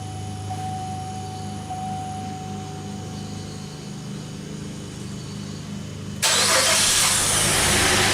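2008 GMC Acadia engine cranking for a compression test, a steady close rhythmic churn that continues throughout and turns into a louder, broader roar near the end, with no talk.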